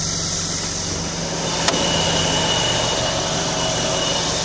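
The engine of a Hydrosub 150 high-capacity drainage pump unit idles in a steady, even drone, close and constant, with a single sharp click partway through and no voices.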